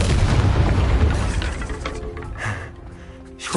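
Confringo blasting-spell explosions in Hogwarts Legacy, a heavy booming blast that rolls out and fades over a few seconds, followed by softer crackling bursts, loud and close with no talk.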